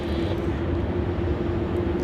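A Jetstar airliner taxis at Melbourne Airport, its engines giving a steady, loud roar with a sustained low hum that stays even from start to finish.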